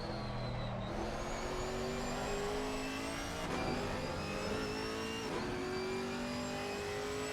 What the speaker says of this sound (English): a heavy, lumbering front-engine V8, not quite the type of car you're looking for at the track here at Zandvoort